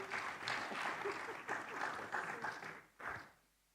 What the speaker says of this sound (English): please let's give them again a big round of applause